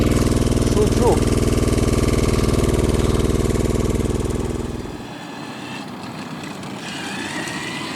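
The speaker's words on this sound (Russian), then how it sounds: "урчащий моторчик работает в качестве генератора, заряжает тяговый аккумулятор" A diesel engine on a hybrid MBV 354 motorcycle runs as a generator charging the traction battery, giving a steady low rumbling drone that drops in level partway through and continues more quietly.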